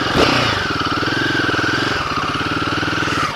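A Royal Enfield Himalayan 450 single-cylinder motorcycle with a 452 cc engine runs steadily close by on a practice terrain track, a loud continuous throbbing thump at idle.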